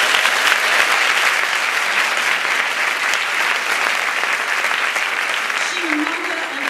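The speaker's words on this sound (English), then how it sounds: "Let's give her a round of applause." Steady, dense applause from an audience at a literary event in a hall, continuous and even throughout without a break.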